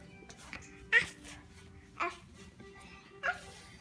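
A toddler imitates a dog's bark, voicing three short, separate yelps roughly a second apart, close to the microphone over a quiet indoor background.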